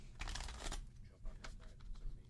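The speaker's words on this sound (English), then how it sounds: "And so now I'm doing a little bit of shuffling here." A deck of tarot cards shuffled by hand in a quiet room, giving a brisk riffling burst followed by softer intermittent card slaps and rustles, close by, with faint voice in the background.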